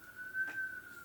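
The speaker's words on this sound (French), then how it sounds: "je suis désolée pour la sirène" A siren passes outside, a faint steady wailing tone heard through indoors and lasting about a second.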